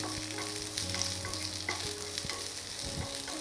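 Chutney ingredients fry in a pan with a constant close hiss of sizzling oil and faint clicks of stirring, while a steady hum runs underneath and nobody speaks.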